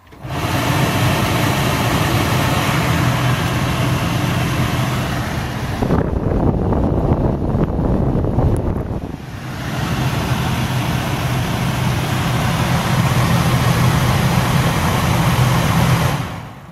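An A/C blower motor on an RT132 runs close by with a steady, loud whirring hum, falls briefly quieter and rougher midway, then returns to full speed.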